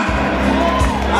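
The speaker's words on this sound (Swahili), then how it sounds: "Wapi makofi mazuri ya Kataya." An audience cheers and whoops at a live music show at Wima Fest, a loud crowd noise blended with the music throughout.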